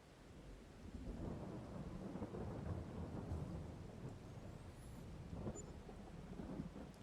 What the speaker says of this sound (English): Get past the rain if possible.